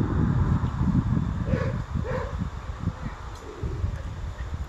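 A dog yips and whimpers in short bursts close by, with rustling and shuffling noise around it.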